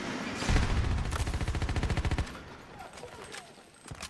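Machine-gun fire in a Battlefield match, a steady rapid burst of close shots lasting about two seconds, then fading to quieter background battle noise.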